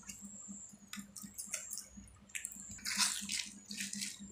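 Palm fruit pulp squeezed by hand in water to draw out the juice, giving soft wet squishes and sloshes in irregular bursts, close and fairly quiet, with a low steady hum underneath.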